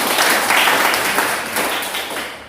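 A classroom of students applauding, a dense wash of many hands clapping at once, loud and sustained before gradually tapering off, with no talk over it.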